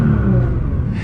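A 2014 Nissan GT-R, tuned to about 700 hp, revs with its active exhaust valve open on a fully straight-piped system. The engine roars close-up in one loud, sustained drone.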